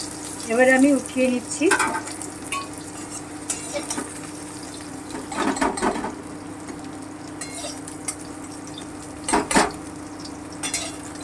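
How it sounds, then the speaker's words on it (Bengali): Hilsa fish frying in a pan over medium heat, a steady close sizzle broken by several bursts of stirring and metal utensil scrapes against the pan. "মাছগুলো ভেজে নিচ্ছি"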